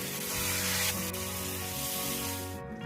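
Water poured into a hot pan of sautéed vegetables for a rohu fish curry with eggplant, giving a loud burst of hissing, spraying sizzle that stays steady for a few seconds before tapering off.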